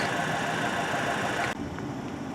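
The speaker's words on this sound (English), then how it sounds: "we'll have to have the engine running, drowning out my voice" A 2025 Volvo V60 engine idles steadily at close range, a continuous even hum that drops slightly in level partway through.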